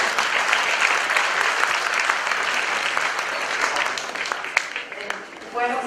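A crowd applauds at a talk on fish, fishing and fish farming in the Chaco, with strong, steady clapping that thins toward the end as a voice begins speaking.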